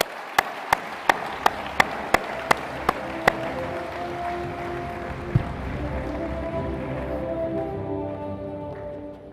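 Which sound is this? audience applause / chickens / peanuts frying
audience applause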